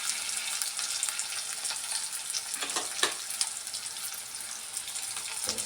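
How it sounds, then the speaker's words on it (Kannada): Cumin seeds fry in hot oil in a pan while cooking fresh avarekalu bassaru, a steady close crackling sizzle with a few louder pops and a soft scrape of stirring. "ಜೀರಿಗೆನ ಸ್ವಲ್ಪ ಆಯಿಲಲ್ಲಿ ಫ್ರೈ ಮಾಡ್ಕೊಳ್ಳೋಣ."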